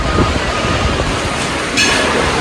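A mine train roller coaster at Alton Towers rumbles and rattles along steadily with a low roar, with a brighter hiss rising near the end; no talking.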